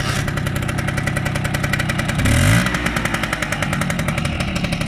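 Vespa PK50XL scooter from 1994 with a Sito sport exhaust, its small two-stroke engine starting up: a rising burst of cranking and catching, then a steady, loud, rapid idling putter close by.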